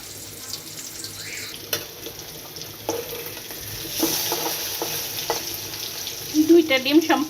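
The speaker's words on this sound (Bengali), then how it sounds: "দুইটা ডিম সম্পূর্ণ এভাবে ভেজে নিলাম।" Rohu fish roe frying in a pan, a steady close sizzle with occasional scraping and stirring clatter and a brief splash of water near the end.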